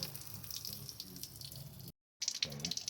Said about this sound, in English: Drain all the fresh water out of the unit.